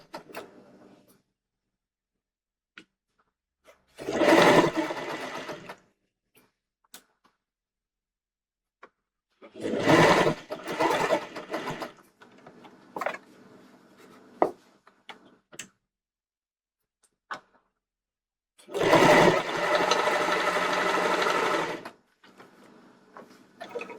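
A sewing machine stitching a pocket onto a tight skirt, running in three close, loud bursts of rapid stitching separated by quiet pauses and small handling clicks.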